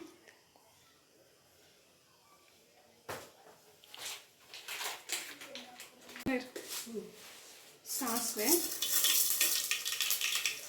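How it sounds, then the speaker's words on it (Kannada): Mustard seeds crackle and splutter in hot oil in a home kitchen pan, quiet at first and then a dense, loud sizzling burst, with a person talking throughout. "ಸ್ವಲ್ಪ ಎಣ್ಣೆ ಬಿಸಿ ಆಗೋಗ್ಬಿಟ್ಟು ಆಮೇಲೆ ಈಗ ಸಾಸಿವೆ ಹಾಕೋಬಿಡೋಣ"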